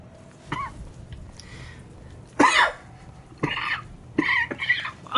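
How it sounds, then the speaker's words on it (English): A person coughs several times in separated bursts, close and fairly loud, with short pauses between the harsh throaty coughs and no talking over them. "Fucking cough."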